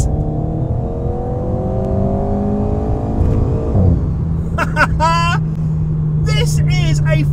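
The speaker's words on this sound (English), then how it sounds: "the exhaust note audibly changes" An Alpine car engine hums steadily, then its exhaust, switched to sport mode, swells into a deeper, louder revving note that holds, with a few chirping squeaks over the top.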